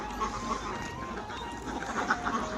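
Ducks on a duck farm quack faintly at a distance, over a steady background murmur.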